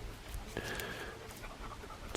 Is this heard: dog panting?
yes